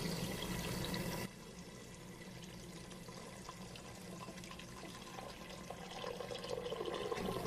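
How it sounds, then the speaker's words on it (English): Water pours steadily over soaked beans in a pressure cooker, a continuous splashing rush that softens after the first second and keeps running without talk. "You need to cover them with water about 2 inches above the beans."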